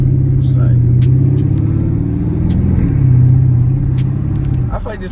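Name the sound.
Dodge Charger SRT car engine running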